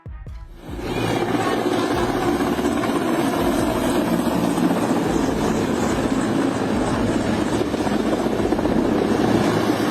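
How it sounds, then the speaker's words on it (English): A Mexican Navy helicopter's loud, continuous rotor and engine roar during an emergency landing starts up and holds steady and close throughout, with no voices. "A Mexican Navy helicopter involved in storm relief operations was forced to make an emergency landing"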